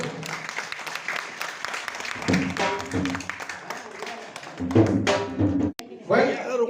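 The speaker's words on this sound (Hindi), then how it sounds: "एक बार तालियों तो दिल से बजाइए" An audience at a press club gathering celebrating members' wedding anniversaries claps along, with uneven taps and thumps. Voices talk over it and the claps rise in a few louder bursts.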